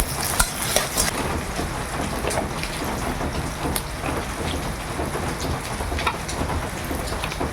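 Tempering spices, onion and tomato sizzle hard in hot oil for a Bengali cooking pot, a dense steady crackling hiss that runs throughout, close and fairly loud, with no talking.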